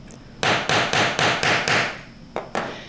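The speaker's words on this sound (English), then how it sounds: "I take the curved side of the planishing hammer, and I'm going to hammer down." Metal wire struck repeatedly with the curved face of a planishing hammer on a steel block, seven or so sharp, ringing blows in a quick steady rhythm, then two more after a short pause, close and loud.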